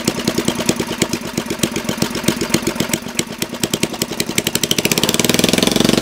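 A Briggs engine running on nitromethane idles very low and quiet, with a steady, loping chain of rapid putters and clatters that grows slightly louder and faster toward the end, with no voices.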